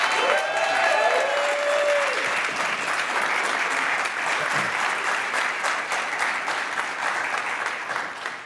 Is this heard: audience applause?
yes